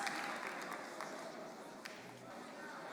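Scholars in the audience at a World Scholar's Cup debate showcase in The Hague clap steadily, a dense, moderately quiet patter of applause that runs without a break.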